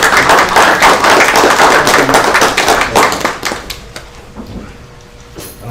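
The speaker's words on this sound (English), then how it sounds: "let's give them a round of applause for all their hard work" A courtroom crowd gives a round of applause, a loud dense patter of clapping that fades out over the last couple of seconds into quiet room noise.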